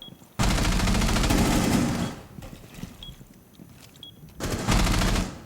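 Automatic gunfire in the tactical shooter Rainbow Six Siege, two loud rapid bursts of several seconds each separated by a quieter gap with faint clicks and footsteps; no talking.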